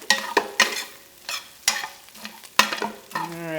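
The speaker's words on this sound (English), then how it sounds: "cutting up these huge clumps so that more of it will get browned as I cook" Sausage browning in a hot pan while a masher breaks up the clumps, with loud repeated scraping and clanking strokes over a steady sizzle, close up.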